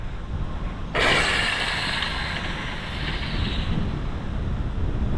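An HPI RS4 2S drag car on foam tires launches with a sudden loud broadband whine about a second in, holding steady for a few seconds over continuous background rumble, then easing off slightly.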